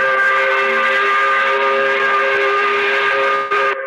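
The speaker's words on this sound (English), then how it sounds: "We forgot to blow the 5 o'clock whistle." A five o'clock whistle blown in one long, loud, steady tone that holds for several seconds and dips briefly near the end, with no talking over it.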